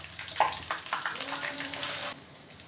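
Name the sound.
eggplant slices frying in hot ghee in a kadhai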